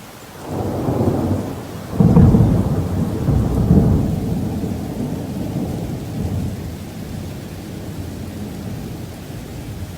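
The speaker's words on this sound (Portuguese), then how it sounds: "E também é acompanhado do trovão, um som muito alto." A loud rumble of thunder rolls in and swells, then settles into a steady wash of heavy rain that continues throughout.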